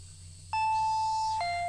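A doorbell chime rings in a Higurashi visual novel: two clean electronic tones, a long high note followed by a lower one, sounding abruptly over a quiet low room hum.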